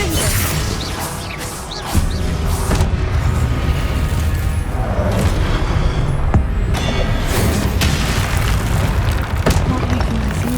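Confringo blasting spell in the Hogwarts Legacy video game, heavy booming blasts and crashing debris that are loud and dense throughout, with sharp impacts near the two-second mark and later on.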